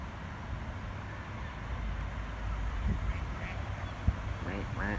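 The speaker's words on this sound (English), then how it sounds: "I see the ducks." Ducks quack outdoors on a windy day, a few short nasal calls near the end over a steady rumble of wind noise, with faint voices in the background.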